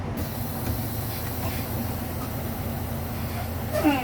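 Low, steady engine rumble of a semi tractor rolling forward slowly at 3-5 mph, with a faint hiss and a brief squeak near the end.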